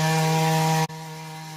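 A small motorized earth auger digging pits on an arecanut farm drones loudly and steadily up close, then the engine abruptly drops to a lower, quieter running tone.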